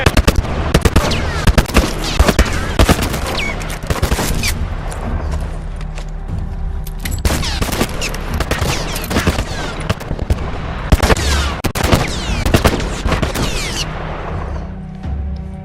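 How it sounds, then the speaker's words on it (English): Military turret in The Last of Us hammering out sustained rapid automatic fire for the whole stretch, loud and close, with dense bursts and brief gaps between volleys. "Some kind of military turret."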